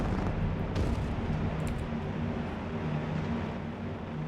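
Maverick missile strikes from an A-10 in the war game Broken Arrow, a dense continuous rumble of explosions with crackling bursts, loud and sustained.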